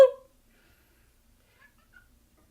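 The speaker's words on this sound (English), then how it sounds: "And there's the cat." A cat gives one short, close meow right at the start, followed by near silence with only a couple of faint ticks.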